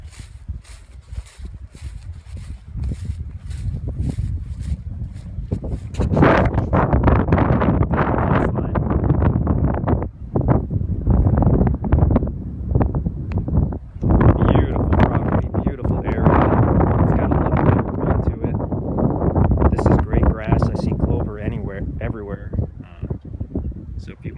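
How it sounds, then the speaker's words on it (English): Strong gusts of wind buffet the microphone outdoors on riverside acreage along the James River, a rough, roaring rush that rises and falls in bursts, with a person speaking at times. "It's a little bit windy today."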